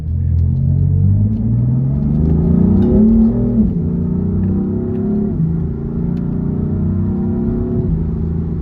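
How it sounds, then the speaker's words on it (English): A BMW M4 engine rumbles loudly and continuously with a rev blip and falling pitch sweeps as it downshifts into second gear, steady throughout with no talking. "Gear down, robot change in 2nd gear."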